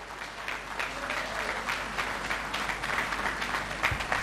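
An audience applauds after a speech at a public event, a continuous patter of many hands clapping, fairly distant and even in level throughout.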